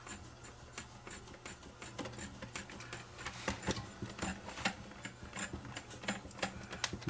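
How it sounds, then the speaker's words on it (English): The mechanism of a JVC HR-FS1 VCR threads tape with a soft, busy run of irregular ticks and clicks over a low whirr, fairly quiet and close. "The guides continue threading all the way up."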